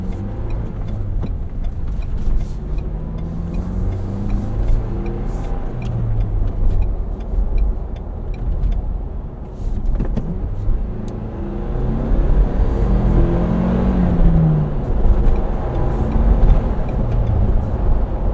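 2023 Ford Bronco Heritage Edition with a 7-speed manual, driving with a steady, loud natural engine drone and road rumble heard from inside the cabin, pitch rising and falling with throttle and gear changes.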